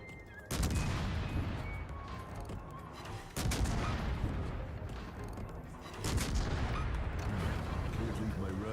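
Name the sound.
naval gunfire shells in World of Warships video game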